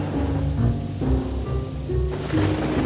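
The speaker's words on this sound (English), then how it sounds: "made lightning and then rain" Steady rain pours down while low rumbles of thunder roll underneath, with no voices.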